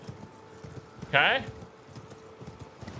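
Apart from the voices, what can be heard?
horse dying in Elden Ring video game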